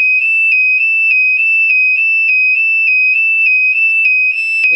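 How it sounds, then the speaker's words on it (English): An ADE security system alarm sounds after a door is forced open, a loud, steady high electronic tone pulsing in a quick repeating rhythm, close and alone throughout. "The alarm's now going off and it thinks the door's been kicked in, so it's now an alarm."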